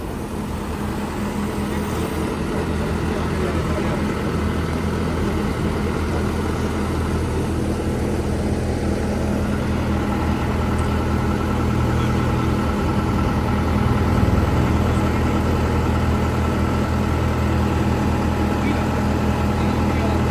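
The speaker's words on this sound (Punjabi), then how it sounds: "ਇਹ ਪਤਾ ਨਹੀਂ ਵੀ ਕਿਹੜੀ ਕੰਬਾਈਨ ਆ" A combine harvester made in Ambala runs with a steady, loud engine drone and a dense mechanical rumble that holds without a break throughout.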